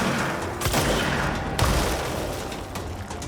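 Exploding enemies in the video game Control, a couple of sharp loud blasts followed by rumbling crackle, close and dense, with no voices.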